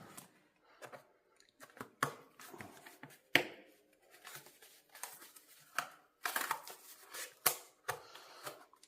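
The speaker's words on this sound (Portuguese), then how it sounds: "Eu vou cortar aqui, ó." Blunt-tip scissors cutting through paper along a drawn line, a run of close, crisp snips in irregular rhythm with short pauses between cuts, with no talking.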